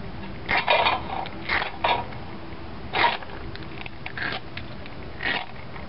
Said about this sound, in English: drop that down in the bottom of my little hobo stove just to use it as a windscreen